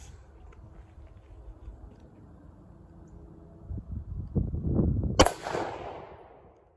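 A single sharp 5.56mm M855 rifle shot cracks out near the end, preceded by low rumbling handling noise. It rings off briefly in an otherwise quiet outdoor range.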